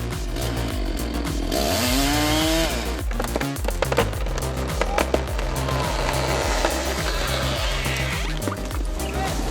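A chainsaw cutting into a tree roars continuously and loudly up close, its engine pitch dipping and rising as the chain bites through the wood.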